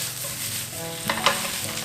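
Napa cabbage and onion are stir-fried over high heat in a wok, a close, steady sizzle with a few sharp scraping and clinking strokes from the spatula partway through.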